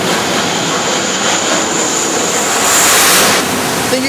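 A jet approaches to land on a Navy aircraft carrier, heard as a loud, broad roar over wind and churning water, swelling briefly near the end.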